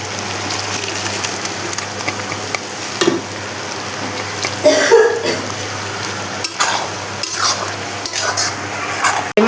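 Boiled ghugni dal hits spices frying in mutton fat with a loud, steady sizzle, then a burst of wet stirring and splashing that swells and fades, with a few knocks near the end.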